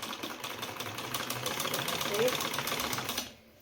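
A sewing machine stitches the double-folded hem of a simple home-use cloth bag in a steady, rapid mechanical rhythm. It runs close and continuous for about three seconds, then stops abruptly, with a voice talking over it.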